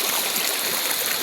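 The Laya River at Candulawan in Talisay City, Cebu, flowing in a loud, steady rush of water heard up close with no pause.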